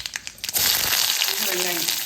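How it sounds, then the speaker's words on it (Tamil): Mustard seeds and curry leaves hit hot oil with a loud, crackling sizzle that keeps going after a few opening clatters, close and busy, with faint crinkly spatter through the hiss. "எண்ணெய் சூடாகிடுச்சு பாருங்க. கடுகு சேர்த்துடலாம். கருவேப்பிலை,"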